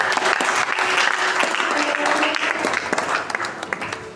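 A church congregation applauds to acclaim the Lord, a dense, steady wall of clapping that fills the room close and loud for the whole stretch.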